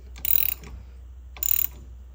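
Wastegate flange screws being hand-tightened with a ratchet, two short bursts of quick clicking ratchet pawl sounds separated by a pause, close and fairly quiet with no talking.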